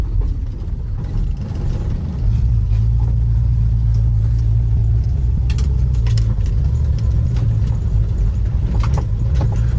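A 1968 Ford Mustang coupe on the road, heard from inside the cabin as a loud, steady low engine rumble with mechanical rattles and occasional clunks over bumps, no talk.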